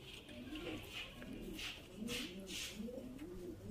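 A pigeon coos softly in repeated rolling phrases, close by, over faint rustling background noise.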